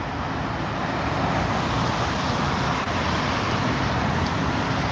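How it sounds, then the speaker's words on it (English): Congested afternoon road traffic on Route 10 West in New Jersey, near the lights coming off Route 46, makes a dense, steady roar of engines and tire noise with no distinct individual vehicles standing out. "Cars are building up at the lights, but it is moving a little bit."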